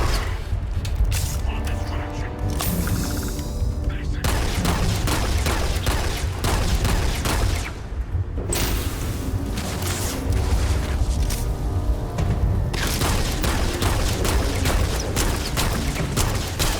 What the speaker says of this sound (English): Okay, that guy's got one of those miniguns.